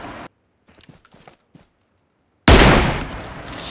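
Gunfire in the battle royale game BGMI, with sniper rifle shots: a gap of quiet holding a few faint clicks and small mechanical sounds, then a sudden loud burst of dense, sustained gunfire that dominates the end.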